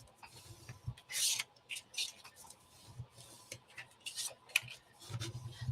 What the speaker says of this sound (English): fold on my score line, and then I am going to burnish